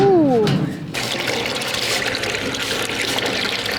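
Cold maple sap with ice crystals being poured from a container, a steady bubbling, splashing liquid sound close by that runs continuously after a brief opening tone.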